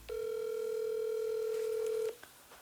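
Telephone dial tone as a call is placed: a single steady electronic tone lasts about two seconds, clear and close, then cuts off, followed by faint clicks in a quiet room.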